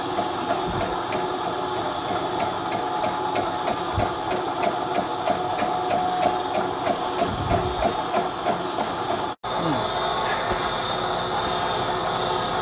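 A Bridgeport milling machine turns an R8 fly cutter at low speed, giving a steady mechanical hum with a rapid, regular ticking pulse throughout, moderately close, with a brief dropout near the end.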